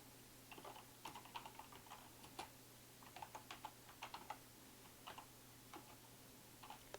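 Typing on a computer keyboard in a word-processing session: faint, quick, irregular key clicks come in small clusters over a low steady background hum.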